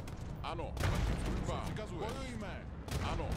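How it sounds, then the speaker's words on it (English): Cannons fire in the Age of Empires II: Definitive Edition battle, a dense run of booming shots and explosions overlapping amid game battle noise, with someone talking over part of it. "That's how cannons are good against infantry."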